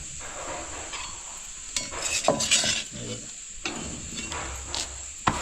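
Bhakri flatbread roasting on a hot tava, moistened with water and flipped, giving a continuous close sizzle with a few scraping and tapping sounds and a sharp knock near the end.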